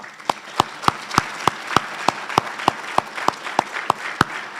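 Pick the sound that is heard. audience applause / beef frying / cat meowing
audience applause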